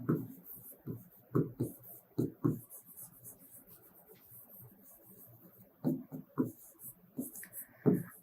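Pen or chalk scratching numbers onto a surface during a maths lesson, short scraping strokes in irregular clusters with quiet gaps between them, close and fairly soft.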